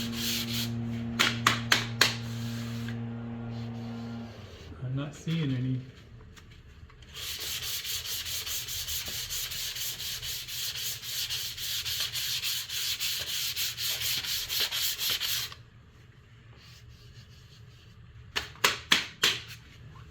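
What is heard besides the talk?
lightly hand sanding gray primer on MGB body dent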